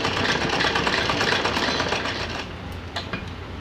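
A sewing machine runs steadily while stitching a folded fabric strip along the edge of a small doll dress, a continuous close whirring that eases off slightly toward the end.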